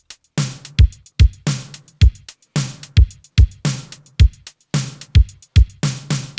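Punchy drum hits pass through a short, muffled metallic plate reverb dampened by padding on the plate, each strike trailing a dull, damped wash in a steady rhythm.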